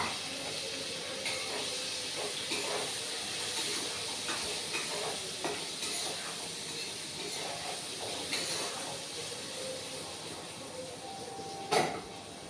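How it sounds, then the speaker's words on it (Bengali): Green beans and capsicum coated in turmeric and salt frying in a pan, a steady sizzling hiss with small crackles and a louder pop near the end. "বিন আর ক্যাপসিকাম একসাথেই ভেজে নেবে"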